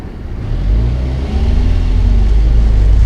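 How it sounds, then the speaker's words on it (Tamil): A car revs hard and pulls away after being put in second gear, its engine rising in a loud, close, continuous mid-pitched drone, with no talk. "செகண்ட் கியரை போட்டதுக்கப்புறமா நல்லா ரைஸ் பண்ணி வெளியில் போகிறேன்"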